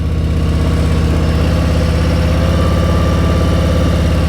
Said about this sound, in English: Just listen to my engine.